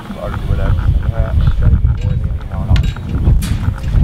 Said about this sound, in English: It's a shame that it's so windy